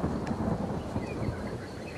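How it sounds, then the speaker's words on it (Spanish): A thunderstorm in the video game Ancestors: The Humankind Odyssey brings a steady, loud low rumble of thunder with a rain-like hiss layered over it, and no one speaks. "¡Tormenta!"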